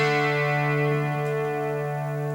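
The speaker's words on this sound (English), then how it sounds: "My most common setting is some level of chorus with a little bit of delay" Sustained electric guitar chord from a Cherry solid-body electric, shimmering with chorus and a little delay, ringing loud and steady before slowly fading, heard alone.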